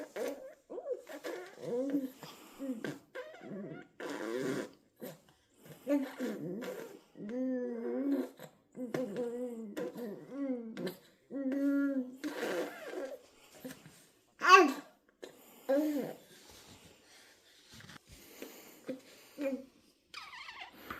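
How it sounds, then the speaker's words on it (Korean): An infant babbling and blowing raspberries with pursed lips in a quiet room, producing bursts of wet sputtering and voiced coos in uneven phrases with brief pauses between them. "투레질이란 아기가 입술을 모아서 푸푸 하면서"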